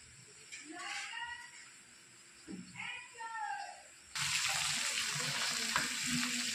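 Fish sizzles in a frying pan; the hiss stays low under a person talking at first, then surges into a loud, steady, close frying crackle.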